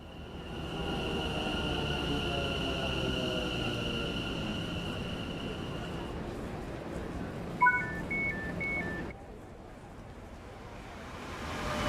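Pendolino electric train in Train Sim World on the West Coast Main Line, a steady whining hum with tonal lines over rumbling running noise, a short beeping sequence near the end before the sound cuts lower.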